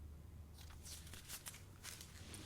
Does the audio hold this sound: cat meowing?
no